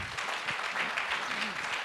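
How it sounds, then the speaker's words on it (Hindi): Loud, continuous clapping from a crowd at a second anniversary celebration, dense and steady throughout with no pauses. "चाहूँगा जोरदार तालियां हो जाएं उनके लिए एक बार"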